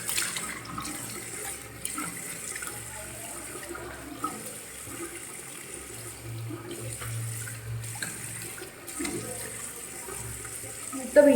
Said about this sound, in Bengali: চলো মুখটা ধুয়ে নি।